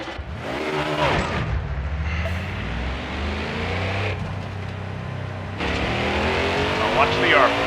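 An ARCA stock car engine at speed at Texas, a loud sustained roar with shifting pitch and sweeping tones as it runs on, with a voice talking over the engine noise.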